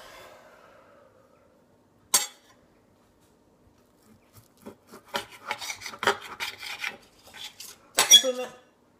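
A knife scrapes and rasps on a chopping board in a short burst of quick strokes after a lone sharp knock, close and fairly quiet against near silence.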